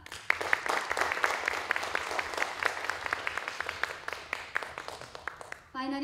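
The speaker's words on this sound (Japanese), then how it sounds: "どうぞ大きな拍手をお願いします。" An audience claps steadily for several seconds at a pageant finalist introduction in a Naha, Japan hall, a dense patter of many hands that stops abruptly near the end.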